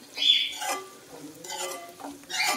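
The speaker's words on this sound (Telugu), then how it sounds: "అన్నీ కూడా మనం బాగా ఫ్రై చేసుకోవాలి." Shark fish curry ingredients frying in a pan give a brief close sizzle broken by a few stirring scrapes, with short crackling bursts over a quiet background and no speech.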